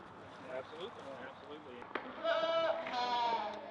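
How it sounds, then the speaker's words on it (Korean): Transgenic goats bleating, a couple of wavering bleats rising toward the end, preceded by a voice narrating at close range. "겉으로 보기엔 평범해 보이는 이 염소들은 세상에서 유일한 종류의 염소들이다."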